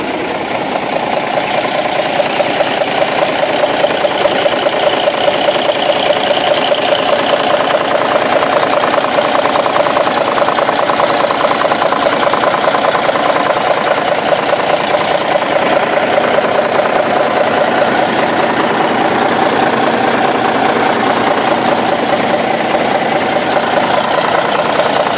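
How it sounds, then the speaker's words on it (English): A Kenworth T800 dump truck's diesel engine idles loudly and evenly, a close, steady rumbling drone with a fine rhythmic clatter running unbroken throughout, no voices over it. "Engine runs really, really nice."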